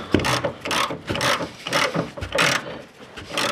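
A ratchet wrench with a 21 mm socket tightens a car suspension bolt, giving a steady series of close, loud clicking strokes with rhythmic pauses between pulls, no voices.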